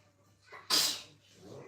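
A single sharp sneeze bursts out close by, preceded by a brief intake of breath, in an otherwise quiet room.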